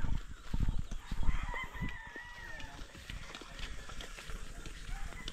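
Chickens and a rooster on a rural Philippine homestead, clucking with a crow-like call drawn out mid-clip, mixed with scattered knocks and low rumble in a busy yard.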